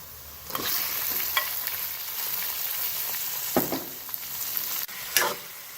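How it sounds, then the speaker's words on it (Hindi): Chicken frying in a karahi, dhaba style, a dense, steady sizzle close up with occasional louder scrapes and clanks from stirring, alone without speech. "चिकन को अच्छी तरह फ्राई करेंगे।"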